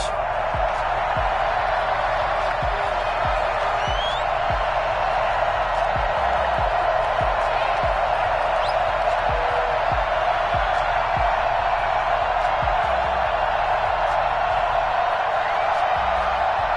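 A stadium crowd in an EA Sports NFL video game, Los Angeles Rams versus Tennessee Titans, roars in a steady, dense wash of cheering, with rhythmic low thumps beneath it throughout.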